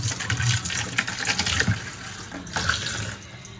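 Dishes are washed under a running kitchen tap, a close, gushing stream of water with clatter and splashing that shifts in intensity over a few seconds.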